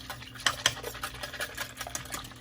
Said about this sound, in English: now we're gonna whisk this up with our whisk